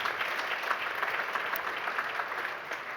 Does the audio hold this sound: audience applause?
yes